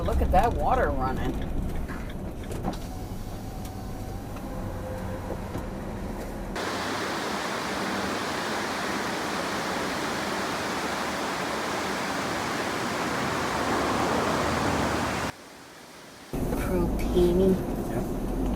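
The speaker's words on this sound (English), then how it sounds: "Yeah, look at that water running." Water running over rocks along the Oregon coast, a dense steady rushing hiss heard close by, with a brief drop in level near the end and a little wind buffeting the microphone.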